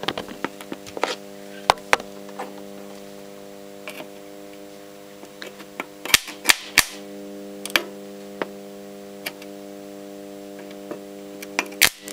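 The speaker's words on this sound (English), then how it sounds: "Let's overamp this circuit board." An overamped circuit board driven by a microwave oven transformer hums steadily while its copper traces blow up in a series of sharp, loud pops and cracks, scattered irregularly, some in quick clusters.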